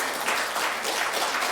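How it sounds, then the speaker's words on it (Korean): Church congregation applauding a member after a recovery from near death, a steady dense wash of clapping held at even loudness throughout, with no voices over it. "축하합니다. 박수."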